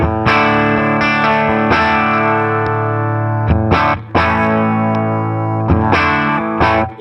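Guitar through an HOD Orange overdrive pedal with the oil knob at zero: strummed, sustained chords ringing loud and close with a light overdriven edge, restruck several times, no voices.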